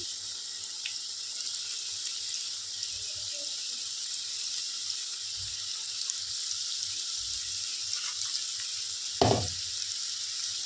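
Bottle gourd pakoda crackles and sizzles steadily in hot oil over a medium to low flame, a close and even frying hiss with a brief louder clatter near the end and no talk.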